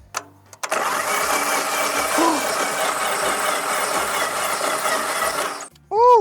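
A Yamaha Virago XV1100 motorcycle engine cranking over with its spark plugs removed, a loud, even mechanical whirring of the starter that runs about five seconds and then cuts off, followed by a brief voice.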